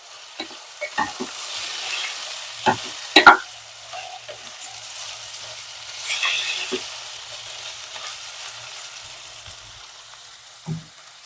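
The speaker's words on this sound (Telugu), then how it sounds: "ఇవి కూడా ఇందులో వేసేసుకున్నాం వేసేసి కొంచెం ఆయిల్లో ఫ్రై చేసుకోవాలండి" Drumstick pieces fry in hot oil for a chicken curry, a soft sizzle that swells and fades, punctuated by a few sharp clanks and scrapes of a spatula against the pan, with no speech.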